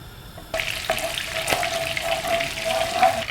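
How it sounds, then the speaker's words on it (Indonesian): Chicken meatballs frying in butter in a pan, with a steady bubbling sizzle that starts abruptly and runs continuously, with a few sharper crackles, and no talking. "Nah sekarang kita goreng ya bola-bola daging ayamnya"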